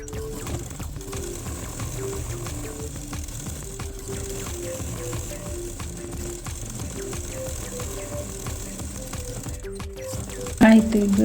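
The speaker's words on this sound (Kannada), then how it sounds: "ಈಗ ಪ್ರೆಸ್ ಸ್ಟಿಚ್ ಹಾಕ್ಕೊಳ್ತಿದ್ದೇನೆ." Sewing machine running a press stitch along the edge of fabric scraps for a handmade double-sided purse, a steady fast rhythmic whirring and needle clatter at close range, with a brief louder clunk near the end.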